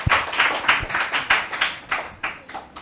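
Audience applause for child contestants at a Ramzan special quiz competition, a steady run of hand claps lasting about three seconds with no talk over it.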